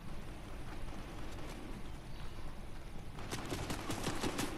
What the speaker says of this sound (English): Oh, here, gunshots.